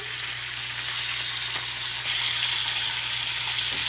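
Pork skins fry crisp in a skillet with a continuous, close crackling sizzle that grows slightly louder partway through, with no talking.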